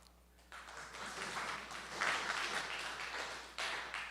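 An audience claps in a short burst of applause that rises and swells after a quiet start, scattered and moderately loud.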